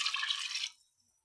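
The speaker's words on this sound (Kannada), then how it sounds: "ನನ್ನ ಮೊದಲಿಗೆ ಮಿಕ್ಸಿ ಜಾರ್ ತೊಳ್ಕೊಂಡಿರೋ ನೀರು ಸೇರಿಸ್ಕೊತಾ ಇದ್ದೀನಿ." Rinse water from a mixer jar poured into radish sambar, a short bright splashing trickle that stops abruptly and leaves near silence.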